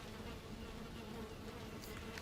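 Continuous insect buzz of a bee in the survival game Valheim, a faint, steady drone lasting the whole moment with no voices over it.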